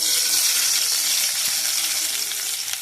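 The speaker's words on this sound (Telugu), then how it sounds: "ఉల్లిపాయలు వేస్తున్నాను చూడండి." Chopped onions hit a hot pan of oil for wheat rava upma, giving a loud, close, continuous hiss and crackle of frying with faint stirring scrapes.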